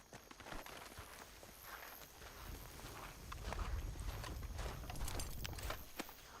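Hooves clip-clop from a horse in Red Dead Redemption 2, a quiet, steady walking rhythm that picks up toward a trot midway, with faint game ambience underneath and no talk.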